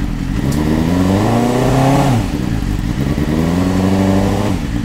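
A BMW S1000R motorcycle fitted with a Villain R9 exhaust revs hard twice, each throttle blip rising in pitch to a loud snarling peak, then dropping back to a throbbing idle, close and unaccompanied by voices.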